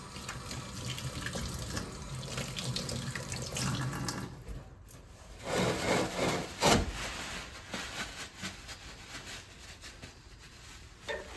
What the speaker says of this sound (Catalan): rentar-nos les mans amb aigua i sabó